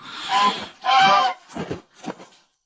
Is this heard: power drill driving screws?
no